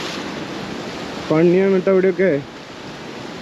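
Sea waves wash onto Anjuna beach in Goa as a steady, loud surf roar running the whole time, with a person talking over it.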